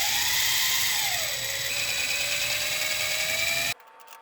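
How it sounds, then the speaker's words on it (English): A small power drill whines steadily as it bores out rivets on a toy car, its pitch dropping as the bit bites in, then cutting off abruptly near the end. "So you have to find a drill bit that's about the size of these rivets and drill each of them out"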